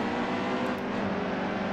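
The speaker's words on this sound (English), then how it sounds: "The pace car is coming." Engine drone of a pace car in the NASCAR Heat 2 racing game, a steady, close motor hum with a slight swell partway through, heard alone without voices.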